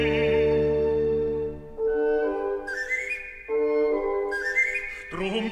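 A person whistles a bright, melodic tune: clear sustained notes that step up and down in short phrases, loud and close, with no other sounds.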